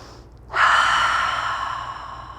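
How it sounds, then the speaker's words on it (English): A single deep cleansing breath during a yoga exercise, a sharp audible inhale or exhale that swells suddenly and then trails off slowly, heard close and alone. "Cleansing breath."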